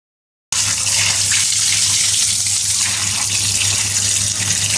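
Pangas fish is rinsed under a steady stream of running water from a tap in a kitchen, a loud, continuous gushing and splashing that starts abruptly after a brief silence and carries on unbroken.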